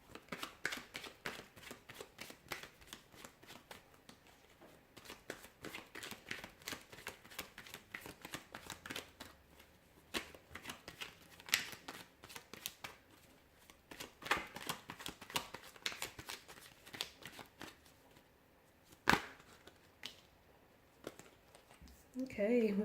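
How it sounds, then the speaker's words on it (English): Tarot cards are shuffled by hand for a long stretch, producing soft, rapid papery riffles and flicks. A few sharper taps stand out, and the whole sound is quiet and close. "I will be shuffling the cards and we'll see what messages they reveal."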